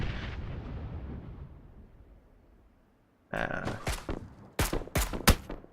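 Gunfire in a shooter video game: after a fading rumble and a short silence, a cluster of loud, close shots and bursts fires in quick, uneven succession.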